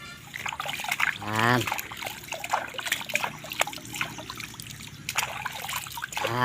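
Clear well water trickling and splashing while toy cars, a racing car, gravel truck and excavator, are cleaned, close and uneven, with small pours and splatters under a speaking voice.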